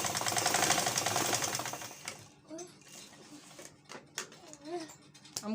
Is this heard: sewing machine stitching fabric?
yes